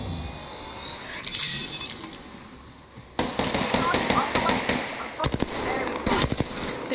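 Video game gunfire crackles in bursts of rapid shots under steady battle noise, with a voice talking over it.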